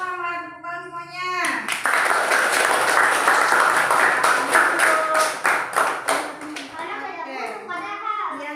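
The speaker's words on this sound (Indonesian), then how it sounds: "Tepuk semuanya." Kindergarten children clap together in a loud, close burst of dense applause lasting several seconds, then taper into scattered claps, with a voice before and voices talking at the end.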